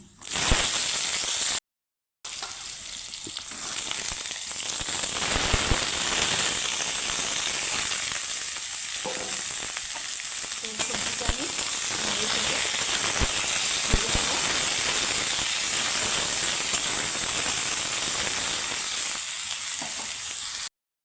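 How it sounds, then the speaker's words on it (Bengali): Chopped vegetables fry in oil over a spice tempering, with a loud, steady sizzling hiss that carries on for about twenty seconds, broken only by a brief gap near the start, and no speech. "এখন আমি কেটে রাখা সবজিগুলো দিয়ে দেবো"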